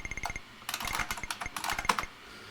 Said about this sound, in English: A lot of typing the file name.